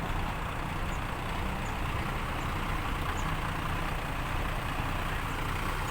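A Fuso dump truck's heavy diesel engine idles steadily nearby, a low continuous rumble with a constant, unchanging drone and no voices.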